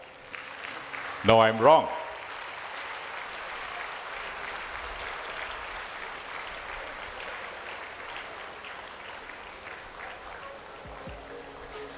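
Applause from an audience at a Ramaiah College of Law event, a broad, even wash of clapping lasting about ten seconds, with a brief spoken remark just before it begins.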